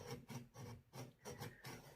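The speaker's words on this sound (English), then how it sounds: "That's a sawing sound that you're hearing." A knife saws into the tough shell of an exotic fruit from an Asian grocery, making quick rhythmic rasping strokes, about seven in two seconds, close and fairly quiet.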